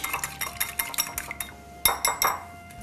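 A spoon clinks and taps rhythmically against a bowl while a creamy, salt-and-pepper-seasoned mixture is stirred, a run of quick, close metallic knocks with a brief pause midway and no voices.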